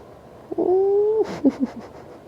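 A pet cat in a quiet indoor room gives one long, drawn-out meow, then a few short chirping calls, loud and close, with no one speaking.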